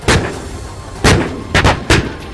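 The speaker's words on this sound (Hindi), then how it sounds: "वहां गाजा से लगने वाली सीमा के पास इसराइल की सेना तोपों से गोले दागती नजर आई।" Israeli army artillery fires shells near the Gaza border, four loud, heavy booms in quick irregular succession, each a sharp blast followed by a brief rumbling decay, with no voices.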